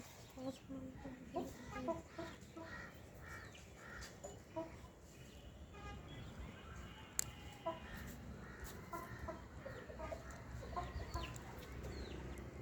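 Chickens cluck intermittently in the background over a low ambient rumble, with scattered short calls and faint voices.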